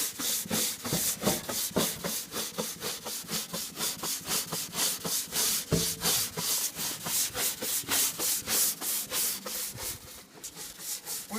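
A stiff brush scrubs a wooden deck coated with cleaner and old sealer sludge, making steady, close, rhythmic back-and-forth rasping strokes at roughly three per second throughout.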